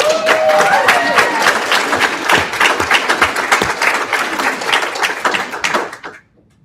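An audience at a school board meeting gives a round of applause, steady distinct clapping from a modest crowd that holds for several seconds, then drops off abruptly into silence.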